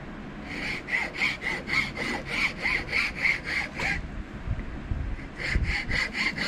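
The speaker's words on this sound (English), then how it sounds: "Just like that, we'll sand that one line off of there." A WWII EGW combat knife being sanded by hand, a quick series of rhythmic rasping back-and-forth strokes, close and clear, pausing briefly before the strokes resume.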